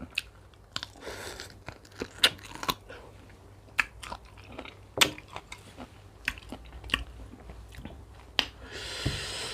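Fresh, juicy peach bitten and chewed close to the mic, with repeated sharp crisp bites and wet crunchy chewing in an irregular rhythm, plus audible breaths between mouthfuls.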